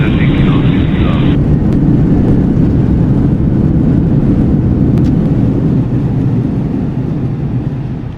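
Airliner engines in Microsoft Flight Simulator 2024 build a loud, steady roar as the aircraft takes off from runway 29, a broad continuous rumble that holds through the whole stretch, while a voice talks over it.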